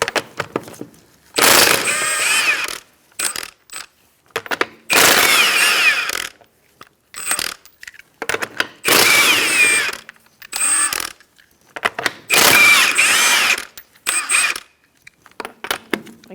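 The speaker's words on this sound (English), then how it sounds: "Using a 21mm socket, we're going to take off our lug nuts." A 21mm socket on a power tool spins lug nuts off the front wheel of a 2004-2009 Mazda 3, in several loud buzzing mechanical bursts separated by short pauses.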